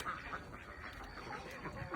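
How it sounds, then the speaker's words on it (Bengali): Ducks on a poultry farm housing egg-laying chickens, with soft, repeated quacking fairly far off against a steady background hiss. "সাথে হাঁস আছে"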